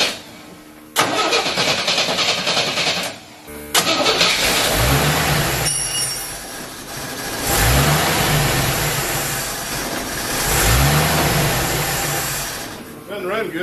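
An old car from around the late 1960s cranks over, catches and revs in loud, close bursts, then settles into several rising-and-falling revs from a rough-running engine that needs work.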